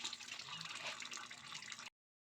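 Freshly foraged mushrooms rinsed under running tap water in a kitchen sink, a steady splashing flow for a couple of seconds before it cuts off abruptly.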